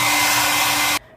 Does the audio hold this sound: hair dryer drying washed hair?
yes